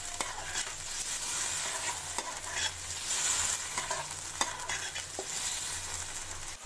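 Yogurt is stirred into chicken korma in a pot, giving a steady sizzle with repeated scraping clicks from the spoon, close and fairly quiet.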